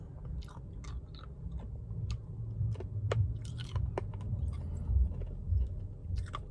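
Close, quiet chewing of hard Dragon Ball Z Senzu beans, with repeated crunchy bites and grinding mouth sounds over several seconds, no speech.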